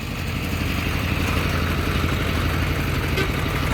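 Small tractor engine running while the tractor reverses, a steady close chugging drone at an even rhythm, with no talk over it.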